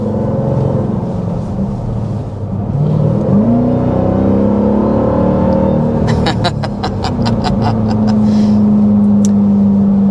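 A 2025 Dodge Durango Hellcat with an 8-speed automatic accelerates hard, its engine note climbing into a loud, sustained roar that holds steady, with a brief higher rasp partway through.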